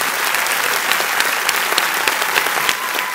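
A cinema audience at a film premiere applauds the directors Eric Toledano and Olivier Nakache: loud, sustained clapping from a packed room, with sharper individual claps rising out of the wash.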